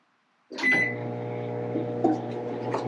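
Microwave oven starting up to bake a potato: a button beep, then a steady close hum with a faint rattle, running continuously after the start.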